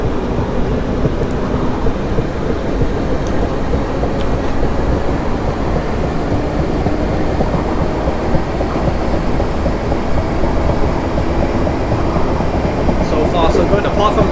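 A South West Trains unit in Train Simulator 2018, on the run from Hampton Court to London Waterloo, rumbles steadily along the track. Loud, continuous wheel and motor noise carries throughout with faint clicks.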